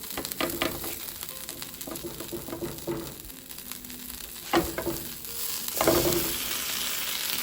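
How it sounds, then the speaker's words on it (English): Pupusas cook on a hot griddle, with a steady close sizzle lasting throughout and a few louder bursts as they settle, and no talking. "We'll wait for these to to cook from one side, then we'll flip them over."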